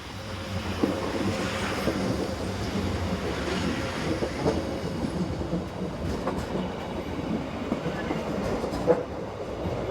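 Train unit number 21 rolls into Sarocca station near Lugano with a steady rumble and faint rhythmic clicking of wheels on rails, heard from moderately close.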